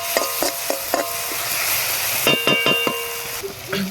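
Chopped onion and tomato frying in hot oil, a steady sizzle broken by several sharp scrapes and clinks of a spatula stirring against the pan, close up.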